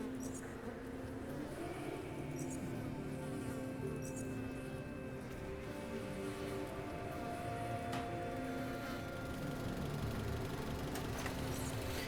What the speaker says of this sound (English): I can hear the jet ski. I can hear it up ahead.